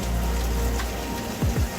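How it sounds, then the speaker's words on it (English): Heavy rain patters densely and loudly on the roof of a Highfield Patrol 860 rescue RIB during a thunderstorm, a continuous close hiss with a couple of brief low knocks. "it's quite a relaxing sound, the rain on the roof"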